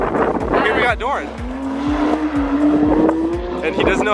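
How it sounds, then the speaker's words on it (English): A car drifts at a retired go-kart track, its tires squealing in a long rising screech over a rumbling engine, close and loud, with voices talking around it. "he doesn't know how to drift"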